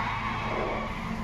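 Race car tyres skid and squeal on cold rubber in Project Motor Racing, a loud, steady, unbroken screech with engine roar and no talking.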